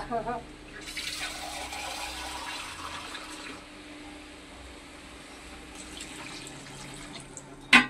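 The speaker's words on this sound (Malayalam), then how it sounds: "നമുക്കിതിനകത്ത് ഇച്ചിരി വെള്ളം ഒഴിച്ചു കൊടുക്കാവേ." Water poured into a pan of chicken curry, a steady rushing splash lasting several seconds, close and moderately loud, then easing off to a quieter trickle with a brief clatter at the end.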